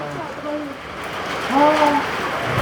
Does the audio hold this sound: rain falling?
yes